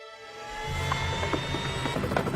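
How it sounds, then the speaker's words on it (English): Mexican military helicopter rising in over a flood-isolated city, a low rotor drone swelling from faint to steady and loud with a whining turbine tone layered on top. "Mexican military helicopters fly in personnel and supplies to the isolated city"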